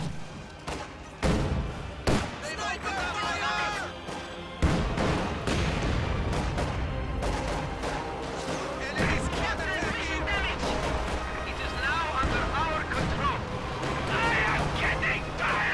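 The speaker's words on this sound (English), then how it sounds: "Katyusha firing on some various stuff over here" Katyusha rocket artillery firing in a WWII strategy game battle, with repeated heavy thuds, crashes and scattered gunfire across the scene while a voice talks over the action throughout.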